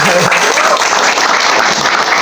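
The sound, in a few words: audience applause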